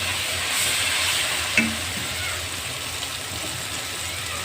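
Finely chopped tomatoes frying with golden ginger-garlic paste in a pan for chicken malai tikka gravy, a steady close sizzle with a brief clatter of stirring partway through.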